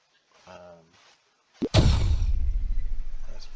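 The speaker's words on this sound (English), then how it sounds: "every time the projectile gets fired, you'll hear that" A brief murmur of voice, then a sudden loud boom with a heavy rumbling tail that rolls on, from a tower firing a projectile in a tower-defense game.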